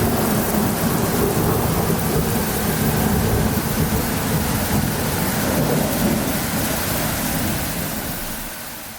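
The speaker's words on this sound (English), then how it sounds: "Thunderstorms." Thunderstorm on a late-July day in Uppsala, Sweden: steady heavy rain with rolling thunder rumbling throughout, loud and continuous, fading slightly toward the end, with no voices.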